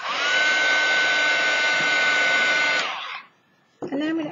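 A handheld heat tool blows steadily on wet gesso across an art card, a loud continuous whir with a constant whine lasting about three seconds before shutting off, followed by a brief pause and a short burst of sound at the end.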